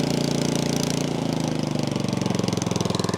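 An old Craftsman snow blower engine idling steadily with an even, rapid putter, close and loud throughout, with no voices.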